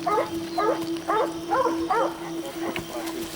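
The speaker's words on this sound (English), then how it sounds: "The scent's obviously strong, the dogs are getting excited" Hunting dogs excited by fresh jaguar scent yelp and bark in a rapid series of close, repeated cries over a steady background hum outdoors on a Brazilian jaguar hunt.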